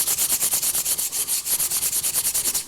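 Wood furniture rubbed with a sanding glove, fast rhythmic back-and-forth scratchy strokes, loud and close, with no voices.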